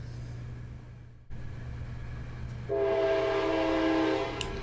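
The Candy Lane train passing: a low rumble, then a loud, sustained multi-tone horn blast sounding close.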